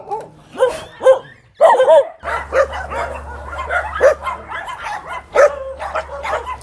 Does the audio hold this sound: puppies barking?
yes